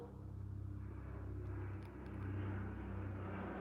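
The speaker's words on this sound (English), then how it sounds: "Let the plane pass." An airplane passes overhead outdoors, a low droning rumble that swells and fades gently over a few seconds, distant and fairly faint with no talk.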